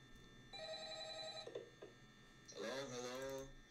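A telephone rings in the video game Five Nights At Tally Hall, with two long electronic ring bursts and a short pause between them, loud and clear with no other sound over it.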